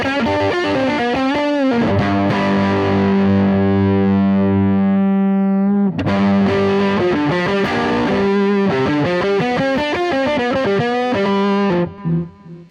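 An electric guitar played through a mini distortion pedal with the mids cut gives a fizzy, heavily overdriven tone: long sustained chords, then a choppier riff, loud and alone before the sound cuts off.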